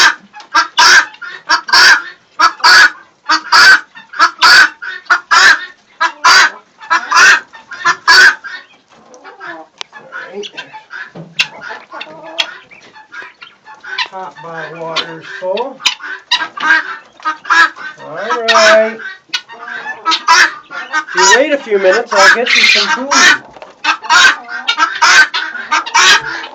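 Guinea hens and chickens call in a yard, a rapid series of loud, sharp, repeated squawks and clucks, close by, with a person talking intermittently among the birds.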